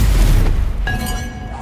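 A Stupefy spell is cast in the video game Hogwarts Legacy: a loud booming magical burst followed by a fading, ringing shimmer.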